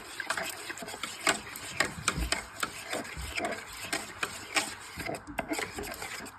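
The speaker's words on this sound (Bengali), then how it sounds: "একটু জল দিয়ে এটাকে নেড়ে নেবো" A spoon scrapes and stirs thick ragi porridge loosened with a little water for an eight-month-old baby, producing close, rhythmic rubbing strokes against the pot at a steady pace.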